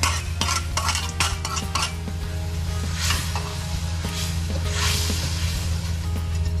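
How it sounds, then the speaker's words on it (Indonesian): Coconut milk with palm sugar gets stirred in a pot, a busy run of close scraping and clinking spoon strokes over a constant low hum, with soft sizzly swishes throughout. "Kita larutkan sampai mencair ya gula merahnya ini."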